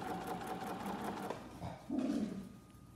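A sewing machine runs steadily, stitching a quarter-inch seam in fabric for a surgical cap, its close motor hum continuous for about three seconds, with a dog briefly whimpering or barking partway through.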